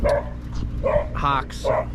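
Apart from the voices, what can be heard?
dogs barking and playing on a ranch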